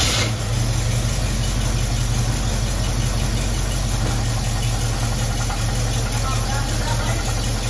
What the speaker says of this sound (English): So I'm going to start it up and I'll put it in gear